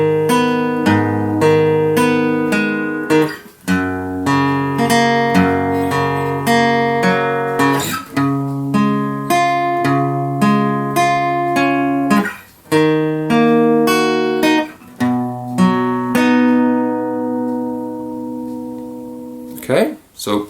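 Acoustic guitar picking the second part of a song's intro, a steady stream of plucked notes across several strings with brief pauses between phrases, close and bright.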